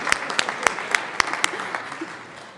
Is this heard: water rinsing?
no